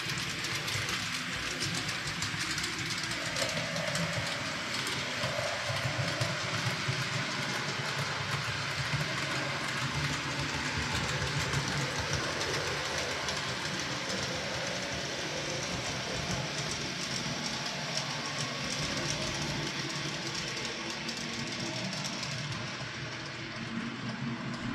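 A Piko H0 scale model train of Polish PKP style runs on a DCC layout, giving a continuous close rumble with light clicking over the track joints and points as it gradually slows down.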